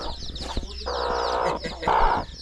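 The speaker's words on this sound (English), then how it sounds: "Look at the chicks. Wow, there are so many." Chickens and many chicks cluck and cheep at a village poultry farm. The chirping is dense and overlapping, with a louder, sustained hen cluck in the middle, heard close and with no talking.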